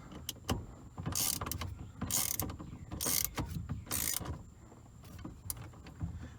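Ratchet tightening the steering wheel nut on a Chevrolet Silverado during a steering wheel replacement, with repeated clicking bursts and short pauses between strokes, close and quiet.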